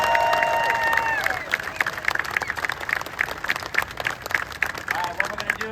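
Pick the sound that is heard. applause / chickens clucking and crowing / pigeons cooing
applause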